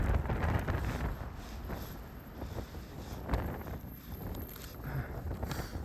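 Strong cold wind buffeting a microphone outdoors, producing continuous loud low rumbling gusts that rise and fall across the whole stretch.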